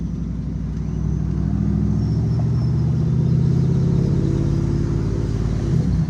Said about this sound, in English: this is shifting pretty harshly